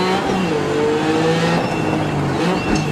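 Rally car engine in a racing video game, a loud continuous close roar that rises and falls with revs and gear changes, with brief tire noise and no speech.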